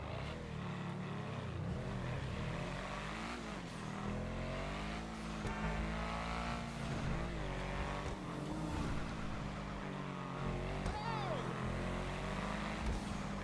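The 8F Drafter car from GTA 5 Online revs repeatedly, its engine note rising and falling in a steady, throaty drone. Faint talk sits underneath the engine throughout.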